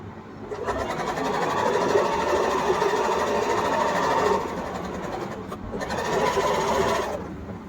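A sewing machine stitches a corner seam in fabric with a fast, steady mechanical whirr of the needle, running for about four seconds, pausing briefly, then starting again, close and clear.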